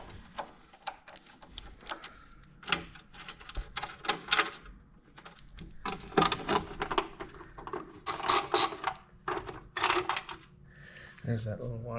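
Clicking, ratcheting metal taps from a wrench loosening 8mm bolts beneath the front of a Honda Goldwing GL1500 during front tire replacement, irregular close-up clatter with speech over much of it.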